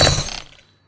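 Placing blocks with the World Shaper in modded Minecraft Vault Hunters gives a single sharp, loud glassy crash that fades away within half a second.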